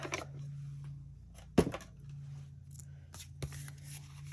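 Paper card stock is cut by hand into a card shape, giving soft close snips and rubbing paper rustles with a couple of sharp clicks, quiet and intermittent, with no talking.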